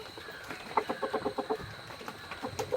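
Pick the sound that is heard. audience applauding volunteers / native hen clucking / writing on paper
native hen clucking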